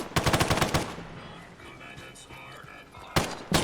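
Rapid bursts of gunfire from an enemy shooting at the player in Fallout 4, a loud rattling volley up front, a quieter stretch with scattered shots, then another sharp burst near the end.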